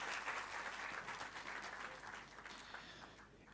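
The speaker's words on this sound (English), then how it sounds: "Give him a big round of applause for him being here." Audience applause at the TODACON 2025 medical conference at Yashoda Hospitals, Hyderabad: a dense, sustained wash of clapping from a hall crowd, steady and fairly loud before tapering slightly toward the end, with no talk over it.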